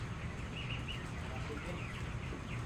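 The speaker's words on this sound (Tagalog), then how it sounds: "Ang laki ng mga manok dito guys." Chickens fill a crowded poultry house on a farm with faint, continuous clucking and murmuring from many birds under a low background hum.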